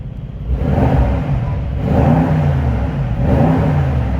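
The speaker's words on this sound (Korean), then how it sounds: "배기음을 확인할 수 있는 배기음" A 2020 Mercedes-AMG S63 Performance Edition rumbles steadily through its exhaust, a deep, loud, close drone that swells gently in a few slow waves, with no voices.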